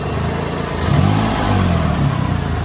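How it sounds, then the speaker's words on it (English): A 2003 Mitsubishi Eclipse engine with about 130,000 miles, mid-treatment with Sea Foam, revs up from a steady low run and holds a raised, droning pitch near the microphone before easing slightly. "I'm gonna start to rev it."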